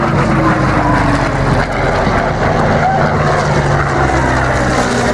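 Propeller airplane with a nine-cylinder engine at an airshow in Margny-lès-Compiègne, a steady loud drone filling the whole stretch with a rough low roar, with faint voices underneath.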